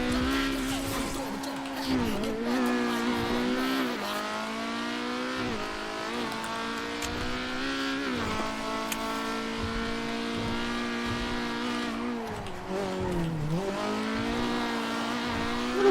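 A tuned BMW M6 revs and drives, its engine note rising and falling through several pulls with a brief tire squeal, while people talk over it inside the car.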